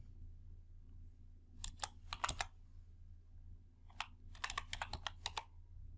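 Fingers type on a computer keyboard in two quick bursts of sharp, quiet clicks separated by a short pause, close up over a faint low hum.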